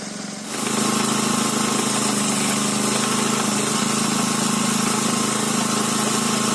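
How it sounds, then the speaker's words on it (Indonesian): Motorized grinding machine running as vegetables and salted fish are fed in for fermented duck and chicken feed, starting up and then holding a loud, steady droning whine with constant vibration, no voices. "dimasukkan secara perlahan ke dalam mesin penggiling satu"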